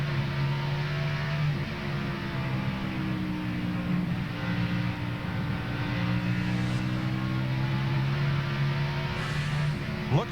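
NASCAR race cars circling Bristol Motor Speedway during the 2001 Food City 500, a dense steady engine drone with layered harmonic whines that rise and fall as the pack passes, loud and continuous throughout.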